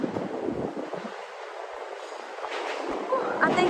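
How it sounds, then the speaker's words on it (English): A train rumbles and clatters past in Ueno, Tokyo, heard as a steady, fairly close rolling noise with rising rattles near the end, mixed with street bustle and voices. "I think I'm walking the right way because I heard a train sound."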